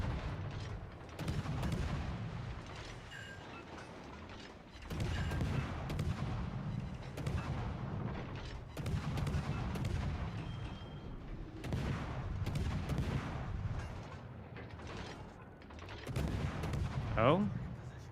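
Ship gun salvos fire in World of Warships: Legends, heavy booming volleys recurring every few seconds under steady engine rumble, with a sharper whistling shot near the end.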